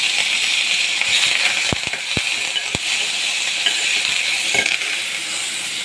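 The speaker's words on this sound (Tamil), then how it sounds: "கடுகு நல்லா பொரிய விடுங்க. கருவேப்பிலை சேர்த்துக்கோங்க." Hot oil fizzes steadily as mustard seeds and curry leaves sizzle in it for a South Indian ginger rasam, a continuous close hiss broken by a few sharp pops and crackles.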